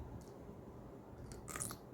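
A few crisp crunches as a crunchy, home-fermented dill pickle kept firm with oak leaves is bitten into and chewed up close, quiet and brief, with no talking.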